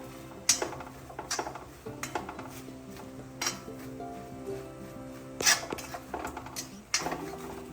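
A spatula stirs masala with curry leaves and coriander leaves in a pan, giving close, irregular metallic scrapes and clinks with quiet gaps between strokes.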